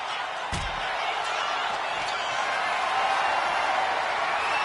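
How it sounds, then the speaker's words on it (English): A wrestler being slammed onto the ring apron during a RAW match, a single sharp thud early on under steady crowd roar and a commentator's voice talking throughout. "Seth up and slamming him on the apron"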